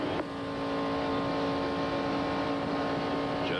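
Stock cars racing in the 1996 ARCA Daytona 200 at Daytona, their engines blending into a steady, loud, continuous drone that holds for several seconds without a break.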